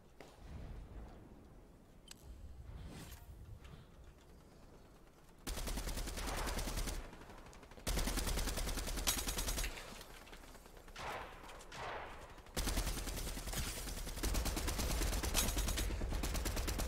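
Rapid automatic gunfire in the video game Fortnite, from a mythic MK assault rifle, rattling in loud sustained bursts broken by short quieter gaps.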